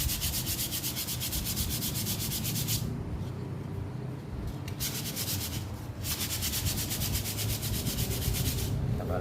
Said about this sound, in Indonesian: Kita gosok supaya licin kembali